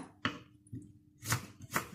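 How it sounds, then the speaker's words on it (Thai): A knife chops through onion on a cutting board in a home kitchen: four crisp, close strikes spaced about half a second apart, with no talking. "หั่นลงไปนะคะ"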